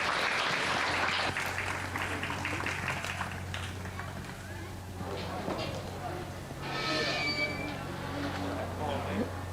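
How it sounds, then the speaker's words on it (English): Audience applause in a county junior fair show arena, broad steady clapping through most of the stretch, mixed with arena noise, a low constant hum and an announcer's voice over it. "Let's give this class a round of applause."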